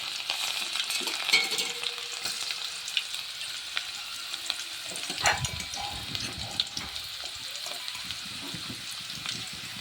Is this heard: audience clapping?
no